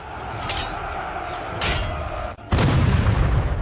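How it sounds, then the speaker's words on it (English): French cannon fire booms across a battlefield, with several dull thuds followed by a heavy, sustained rumbling blast that swells louder near the end. "French cannon fire echoed across the battlefield"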